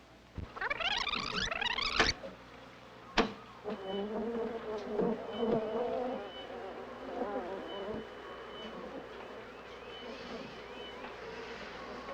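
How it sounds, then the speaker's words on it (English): A dense swarm of bees buzzes in a 1978 film scene, the hum rising and wavering in pitch with a few sharp accents, continuous and fairly close throughout without speech. "we're trying to decipher the language patterns of the bees"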